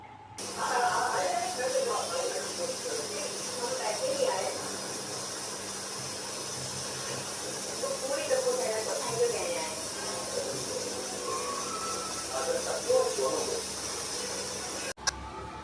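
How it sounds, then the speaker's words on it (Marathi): Coated fish pieces fry in hot oil with a steady, loud sizzling hiss that runs almost unbroken throughout, while a person talks over it. "आता ही मच्छी जी आहे ना ते एक एक असं याच्यामध्ये ना कोट करून तेलामध्ये फ्राय करून घ्यायची"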